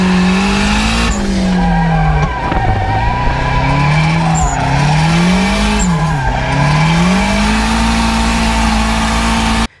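Turbocharged Mazda Miata roasting its tires, a loud sustained squeal of rubber with a wavering pitch over a steady engine drone, close and continuous for the whole stretch.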